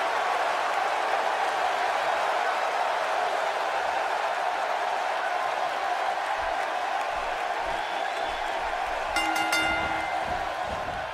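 Steady roar of a large wrestling arena crowd at a WWE WrestleMania event, a dense continuous wash of cheering and crowd noise throughout, with a brief whistle-like tonal burst near the end.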